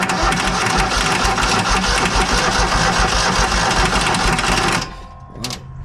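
A Hobart 10,000 watt welder generator's engine runs roughly and loudly with a steady uneven drone for nearly five seconds, then cuts out abruptly, leaving a faint tail and a brief sputter.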